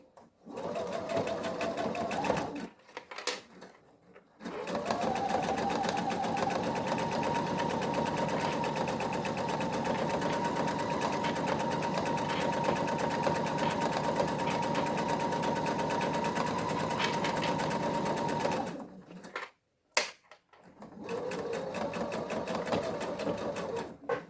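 Sewing machine stitching a seam on a vintage panel clutch bag in rapid, even runs, first a short burst, then a long sustained stretch and a final short run, close and clear with brief pauses between.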